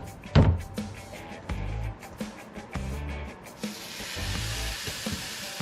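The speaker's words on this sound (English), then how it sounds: "That's a nice sizzle." Hamburger patties go into a preheated air fryer and start to sizzle, a soft hiss that builds into a steady crackle after a few thumps and clunks of handling the basket.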